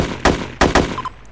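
AK rifle fire in a video game, three or four sharp, loud shots in a quick uneven burst, followed by a faint electronic tone.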